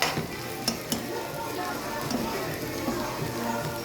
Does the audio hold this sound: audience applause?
no